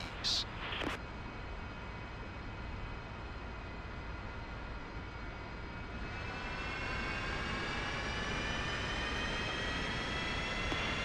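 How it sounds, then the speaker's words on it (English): Northrop F-5E jet engine in the DCS flight simulator spooling up toward idle after throttle-up, a steady broadband roar with rising whining tones that grow slightly louder midway, a couple of short clicks at the start, no talk. "fuel is supplied to the engine and will reach idle RPM within 35 seconds"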